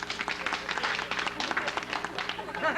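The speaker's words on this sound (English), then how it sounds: "please show so by applauding" A 1977 television studio audience applauds to cast a vote, a short burst of scattered clapping mixed with murmuring voices and talk.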